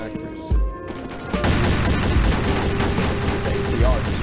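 Pistol and other gunfire in the online shooter Combat Arms, sharp shots cracking out in a dense, continuous string over loud game noise, with a heavy thump near the start.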